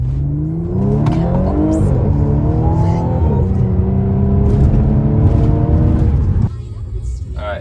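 A 2014 Audi S4 engine accelerating hard, its smooth rising whine climbing steadily in pitch over several seconds before dropping back abruptly, loud and close inside the car.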